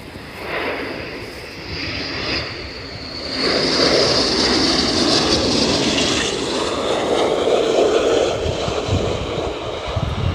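A C-17 transport aircraft with Pratt & Whitney F117 jet engines roars at RAF Lakenheath, a loud sustained broadband rush that swells sharply partway through and stays heavy and close to the end.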